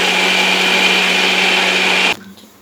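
A mixie grinder whirs steadily as it grinds pesarattu batter with jeera, a loud, even motor whine that cuts off abruptly near the end and leaves a quiet room.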